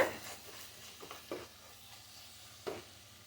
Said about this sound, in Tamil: இப்போ இது எல்லாத்தையும் நல்லா ஃப்ரை பண்ணிக்கோங்க